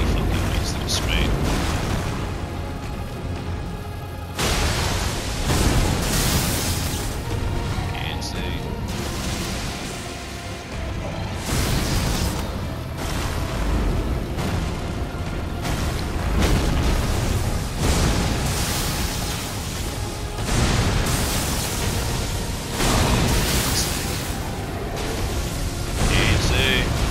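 Dragon fire breath spraying flames in Elden Ring: sustained, loud roaring bursts and booms of fire repeat across the whole stretch, with someone talking over the game sounds.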